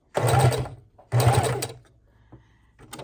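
A sewing machine stitches through a miniature junk journal made from a playing-card box, running in two loud, close bursts separated by a short pause, then a faint brief clatter at the end.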